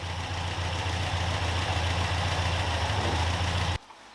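An overhauled Caterham Super Seven engine idles steadily with a deep, even low rumble, running alone at moderate level before cutting off abruptly near the end.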